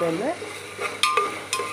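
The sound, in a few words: onions frying in hot oil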